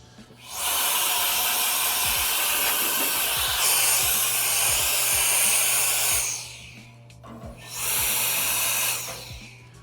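A strong blast of air blows dust out of a dirty ice machine condenser, a loud, steady hissing rush that runs for several seconds, cuts off, then returns in a second shorter burst.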